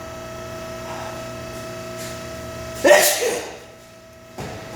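A single sharp human sneeze in a workshop, loud and close, breaking over a low steady hum and followed by a short fading exhale.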